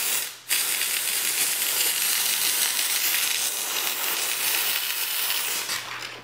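A McCulloch MC1375 canister steam cleaner blasts a loud, continuous hiss of steam spray that starts abruptly after a short pause and holds steady for several seconds before easing off.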